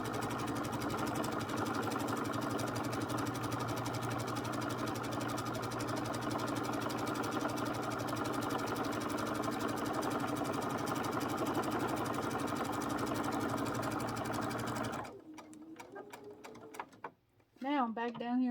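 A sewing machine runs a long continuous seam on an egg-gathering apron, a steady unbroken mechanical hum that stops abruptly, followed by a voice speaking.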